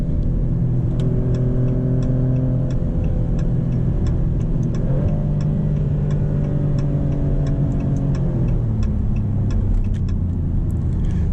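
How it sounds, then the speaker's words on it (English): A 2025 Maserati GranCabrio Trofeo engine accelerates hard from inside the cabin, a steady throaty drone climbing in pitch and dropping with each gear change. "We'll do one more acceleration."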